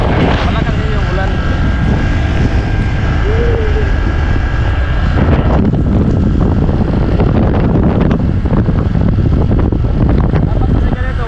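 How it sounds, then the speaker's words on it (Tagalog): Heavy rain pours down in Boracay along a flooded road travelled by motorbike, a loud, steady broadband roar that fills the whole stretch, with voices faintly underneath. "At lumalakas na nga po ang ulan."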